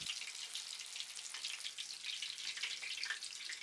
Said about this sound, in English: Deep fry them for about 3 minutes until the outside becomes crispy.